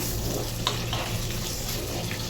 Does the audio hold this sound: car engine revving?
no